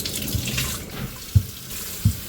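Tap water runs steadily over potatoes being rinsed in a sink, a continuous close splash with a few soft knocks as the potatoes shift.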